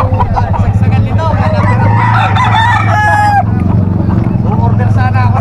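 Roosters crow repeatedly and chickens cluck amid a busy standing-seller market at the Bocaue tiangge, the fowl calls loud and close over constant crowd noise and nearby talking.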